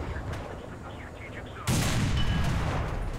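Tank gun of an SU-100P in War Thunder fires once with a sudden loud blast, followed by a sustained rumbling echo over quieter background battle noise.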